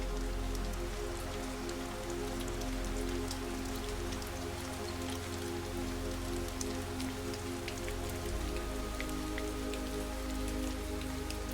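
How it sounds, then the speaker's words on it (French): Steady rain pattering on a surface, continuous and even throughout with scattered distinct drops, a soft enveloping wash with no voices. "Entendez la pluie qui glisse sur les parois de cette bulle."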